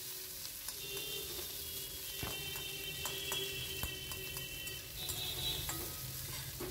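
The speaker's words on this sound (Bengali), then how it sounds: "এবার দিয়ে দিলাম কুচানো পেঁয়াজ, দিয়ে সব কিছু এবার হালকা একটু ভাজবো।" Chopped onion sizzles steadily in hot oil for a spicy puti fish curry, a dense crackling hiss close up, with occasional light ticks and clicks of a utensil against the pan.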